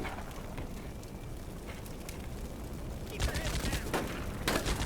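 Gunfire in the military video game Combat Mission Shock Force 2 in a city setting, a low rattling fusillade that grows into louder, sharper bursts of shots in the last seconds.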